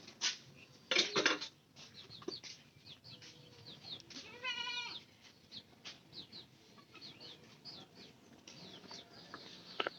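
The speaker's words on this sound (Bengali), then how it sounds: "ছাগলগুলো খুব ভেবাইতেছে" Goats bleat repeatedly at a rural Bangladeshi homestead, several short wavering cries near and far among chickens and clattering pots and dishes, with no talk.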